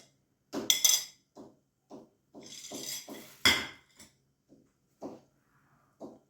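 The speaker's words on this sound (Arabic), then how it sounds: "نسحق هذا البصل والمعدنوس اللي قطعته مرصوات" Chopped onion and parsley being crushed for a quick spaghetti sauce: a close series of irregular knocking, clinking strikes, some in quick bursts and others spaced apart, with no talk.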